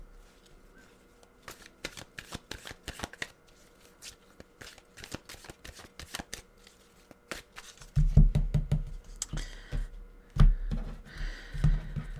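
A deck of tarot cards is shuffled nearby in quick, soft riffles and flicks, with occasional taps. Louder low thumps of handling come in toward the end.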